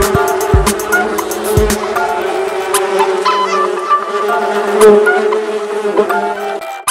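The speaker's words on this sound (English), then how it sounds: "A bee makes a buzz sound." A bee buzzes in a steady, loud drone that holds for about seven seconds with slight wavering in pitch, close up and with no other sound around it.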